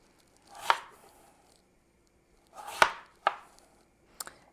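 A knife comes down on a cutting board in four separate chops, each a crisp, close thud with brief pauses between them, and the last two fall in quick succession.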